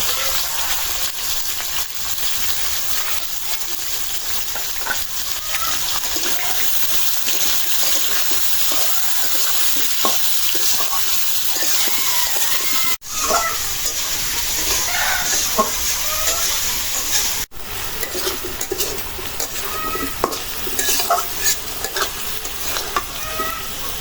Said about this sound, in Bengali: আলু পেঁয়াজ ভাজা হয়ে গেছে